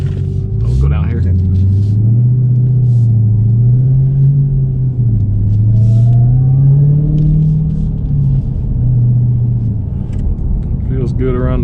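A 2019 Dodge Challenger Hellcat Redeye drones steadily while driving, a deep engine rumble rising and falling with throttle throughout, close and loud.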